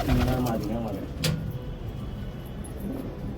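Patiala pigeons, a flock of about 150 birds, coo in low repeated throaty notes, mixed with voices talking over them nearby.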